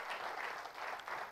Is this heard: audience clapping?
yes